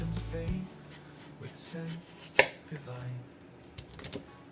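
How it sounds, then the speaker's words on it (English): A sharp knife slices down through a mango beside its large seed, soft cutting and scraping sounds on a board with one sharp crisp cut in the middle, quiet and close. "get a sharp knife, and just off center, there's a large seed in here, so you go just off center, slice down both sides"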